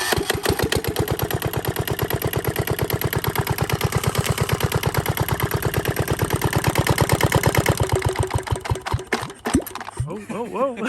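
A Yanmar 1GM10 single-cylinder diesel engine from a sunk sailboat idles with a loud, rapid, regular knocking chug, close up, then stumbles and changes pace near the end.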